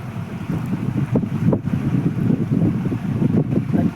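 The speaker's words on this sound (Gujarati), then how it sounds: "એવો પવન હતો આજે પવન હે" Steady wind roars across the microphone, a dense low rumble with gusty swells that never lets up.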